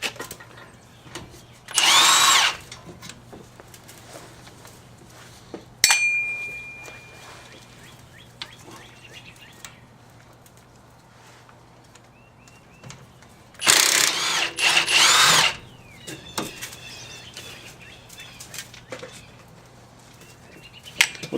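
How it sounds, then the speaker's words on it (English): Power tool whirring in two short loud bursts, removing the 17mm caliper housing bolts on a 2001 Honda CRV during a brake pad and rotor job, with quiet workshop sounds between the bursts. "we're going to remove the 17mm bolts that hold the whole caliper housing on there"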